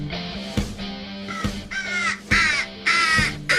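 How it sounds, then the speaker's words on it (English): Crows arriving at a feeding spot caw repeatedly, a run of harsh, evenly spaced calls that grow louder and closer, heard over a steady low hum with no talking. "They're coming. They're coming. Here they come. There's the crows."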